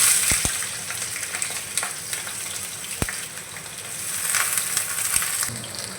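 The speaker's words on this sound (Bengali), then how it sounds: "তো প্রথমে আমি যে আলুটা আমি লম্বা লম্বা করে কেটে রেখেছিলাম, সেই আলুটা ভেজে নেব।" Long-cut potato slices fry in mustard oil in a kadai, giving a steady, close sizzle with a few sharp pops and occasional light stirring clicks, and no talk.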